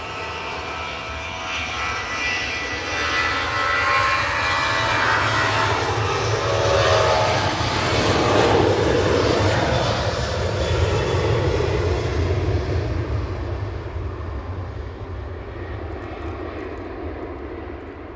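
A TUI Boeing 737 with split scimitar winglets roars down the runway on takeoff, its engine noise swelling to a loud peak midway with a sweeping pass, then slowly fading as it climbs away.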